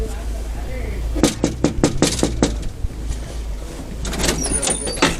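A police officer knocks on the front door of a family home, a quick run of sharp raps sounding close over a low background hum, with a pause and then quieter knocks and scuffing after.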